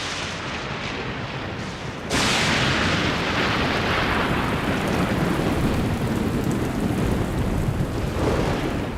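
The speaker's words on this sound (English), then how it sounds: "As the downpour begins, the parched ground absorbs every drop." Heavy rain pours down onto a dry open plain, a sudden steady roar that jumps to full loudness after about two seconds and keeps up without a break, with no voices.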